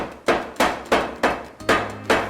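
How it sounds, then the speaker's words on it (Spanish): A hammer strikes the back of a knife laid over a cloth to chop through a chicken wing bone, six sharp, evenly spaced thuds, close and loud with no talk. "yo pongo el cuchillo, pongo el trapito encima y con el martillo"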